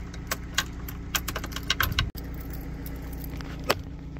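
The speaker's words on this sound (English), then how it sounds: "test to make sure that the key turns in the steering lock" A car key jangles and clicks as it turns in the steering lock of a classic Mini with a rebuilt steering column. The metallic ticks and rattles are close and fairly quiet, with one sharp clunk midway.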